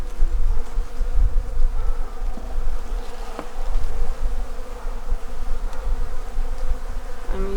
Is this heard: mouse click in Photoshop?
no